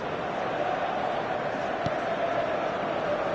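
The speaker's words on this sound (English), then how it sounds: "Well, the crowd aren't happy." A football stadium crowd at an Inter match, restless and displeased after a wanted shot never comes, sends up a steady, fairly loud roar that fills the whole clip, with one brief sharp sound standing out midway.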